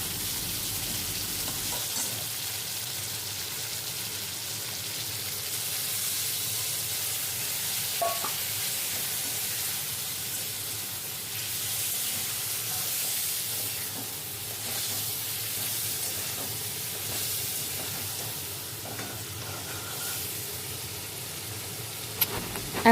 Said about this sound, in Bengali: এবার যে মশলাটার মিশ্রণটা তৈরি করেছিলাম সেটা ঢেলে